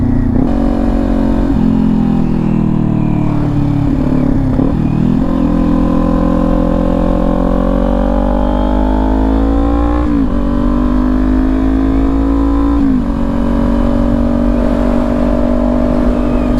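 A motorcycle engine, loud and close, revs steadily as the rider clutches up in second gear, its pitch climbing and dropping in long sweeps with brief dips between pulls, alone without talk.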